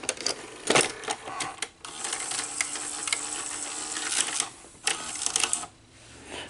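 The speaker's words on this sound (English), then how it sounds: "Let's put the cassette in and we'll see what happens." A Sony SL-HF360 cassette deck taking in a tape and threading it, a close run of mechanical clicks, whirs and clatters in irregular bursts with short quiet gaps between them.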